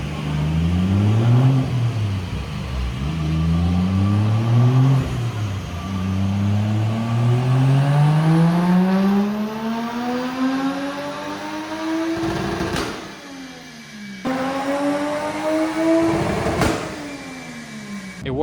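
A tuned car engine with anti-lag, putting 316 hp to the wheels, revs up and down in repeated sweeping pulls, loud and close, with sharp pops or cracks near the end and no talking.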